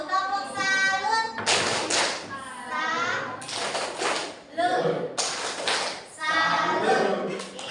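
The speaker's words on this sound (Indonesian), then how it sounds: "Oke, kita tepuk salut dulu." Classroom of students doing a rhythmic salute clap in patterned bursts between spoken chant and teacher talk.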